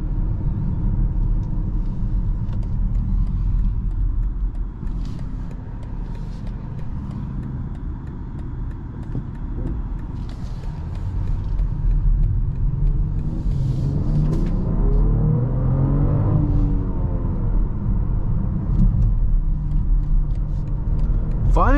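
Road and engine rumble from a 2024 BMW X5 40i heard from inside the cabin, a steady low drone that swells slightly as the SUV picks up speed, with no talk.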